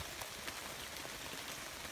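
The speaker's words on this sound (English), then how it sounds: "trying to get out of this damn rain" Rain falling outside a rock shelter makes a steady, dense hiss with scattered soft drops. It is close and constant, with no talking.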